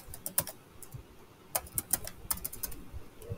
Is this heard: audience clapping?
no